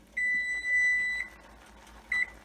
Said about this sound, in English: And there's the timer.